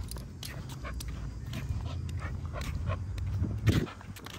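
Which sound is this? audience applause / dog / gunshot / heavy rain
dog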